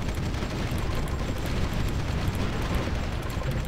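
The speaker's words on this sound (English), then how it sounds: "Look at all that artillery." Artillery fire in the war strategy game Supreme Ruler 2030 over the Donbass region, a dense continuous rumble of distant booms blending into a low roar, moderately quiet, with no talking.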